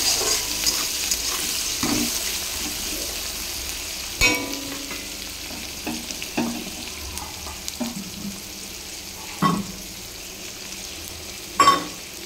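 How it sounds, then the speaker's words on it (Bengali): Chopped onion frying in hot oil with dry red chilli, cumin seeds and bay leaf, a steady close sizzle broken by several sharp scrapes and stirring knocks of a spatula against the pan. "পেঁয়াজটা লাল লাল করে ভেজে নেবো"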